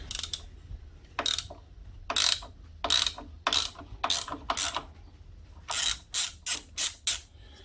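A ratchet with a 17mm socket turning a bolt on a Honda CB750 K2 motorcycle, a series of loud, close clicking ratchet strokes in uneven bursts, pausing midway, then several quicker strokes, with no talking.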